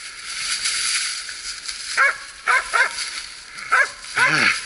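Short, high barks and yelps come from hunting dogs on a moose hunt in the Bryansk region, about five separate bursts spaced over a few seconds against a steady rustling outdoor background.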